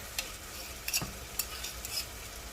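Chopped, crushed garlic and onions frying together in a pan, a faint soft sizzle with a few scraping strokes of a spoon stirring, quiet and close.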